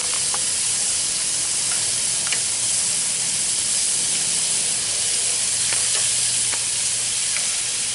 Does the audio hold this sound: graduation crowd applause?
no